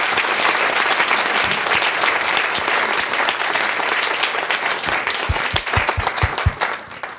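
Sustained audience applause fills the hall after a talk on mental preparation in sport: dense, steady clapping that stays loud throughout, with a few sharper individual claps standing out near the end.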